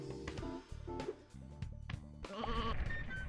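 Sheep in the video game Sheep Raider bleat repeatedly in short, wavering cries, loud and close over game music and effects.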